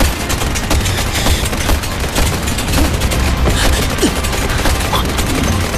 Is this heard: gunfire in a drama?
yes